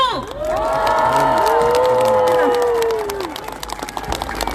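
A large outdoor campaign rally crowd in 2021 for mayoral candidate Oh Se-hoon erupts in loud, sustained cheering with shouts and whoops, then settles into scattered clapping as the roar fades.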